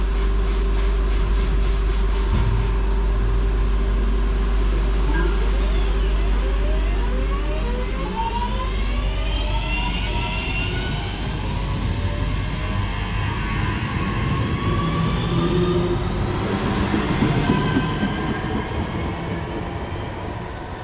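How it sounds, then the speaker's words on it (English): Class 323 train 323223 passes close by on its way to Liverpool Lime Street from Crewe, with a loud, sustained rumble, rising and falling whine and rattling wheels that fade slowly as it moves away. "There goes 323223 heading over to Liverpool Lime Street from Crewe."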